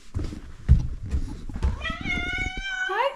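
Luna the cat meows several times, clear rising and falling tonal calls that come close to the listener, after a stretch of rustling and handling noise at a bear-country camp lodge.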